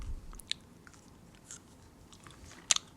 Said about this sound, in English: This is going to be a gum chewing